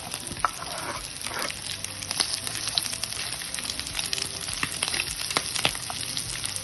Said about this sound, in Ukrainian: Обсмажую до золотистої скоринки і додаю тепер цибулю.